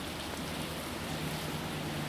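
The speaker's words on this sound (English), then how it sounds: "you could get a really good look at it raining inside the parking garage" Steady rain falls inside a concrete parking garage under construction, a continuous even hiss of drops with no talking.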